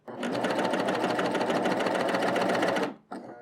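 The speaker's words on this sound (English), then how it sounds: "I've stitched together my 2 pieces of fabric." A three-needle sewing machine stitches two pieces of fabric together in one steady, loud, rapid run of about three seconds, then stops and gives a brief final burst.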